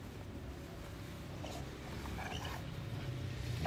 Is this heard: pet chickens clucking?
no